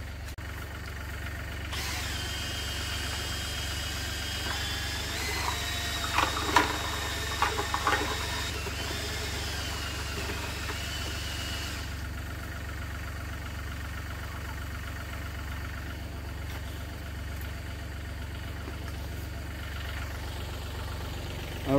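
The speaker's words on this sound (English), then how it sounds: "we'll get the agitator going on the tractor and get going" A tractor engine runs steadily at a low, constant drone to drive a fertiliser agitator in an orchard, heard throughout from a moderate distance with faint clinks and mechanical whines over it.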